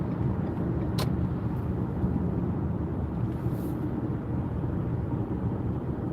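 A car driven on a road with a Comma ai driver-assist system installed, a constant broadband rumble of tyres and engine from inside the cabin, with a brief click early on and no talk.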